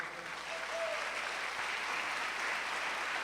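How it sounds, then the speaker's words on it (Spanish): A church congregation applauds during a sermon, a steady, soft wash of many hands that sounds somewhat distant and continues without a break. "¿Le puede dar un aplauso al Señor?"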